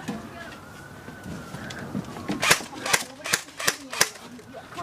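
Airsoft guns firing during a nighttime battle among kids, a run of about five or six sharp cracks in the second half, following a stretch of murmured background noise and distant voices.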